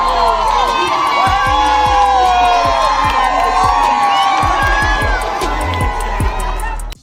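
A basketball arena crowd roars and cheers at a player, loud and sustained, with shouts and whoops rising above the din.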